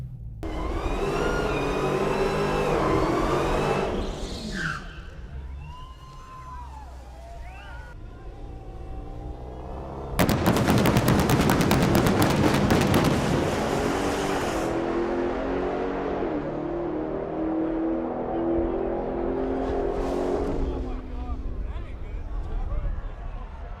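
A 2023 Dodge Challenger SRT Demon on a Las Vegas race track: the engine revs up and down in rising and falling sweeps, then bursts into a loud, harsh roar that holds before easing off.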